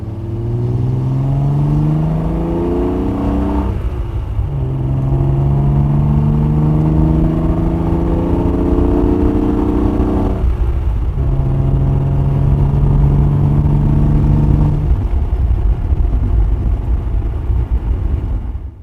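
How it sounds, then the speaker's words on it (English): A Triumph TR6 straight-six engine pulls hard under load, its steady droning pitch climbing through the revs, then dropping briefly at two gear changes before rising again. "This straight 6 sounds fabulous under load."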